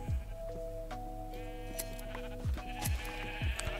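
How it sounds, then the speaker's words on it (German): Sheep bleat several times in Minecraft, their short falling cries close and distinct over a steady background of in-game ambient tones. "gehen wir jetzt mal ein bisschen durch die Schafe"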